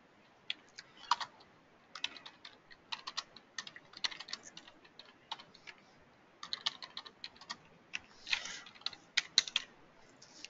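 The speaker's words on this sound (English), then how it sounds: "Then I can type in the address that I want that to be." Quiet computer keyboard typing, a quick irregular patter of keystrokes in short bursts as an address is entered, close and soft.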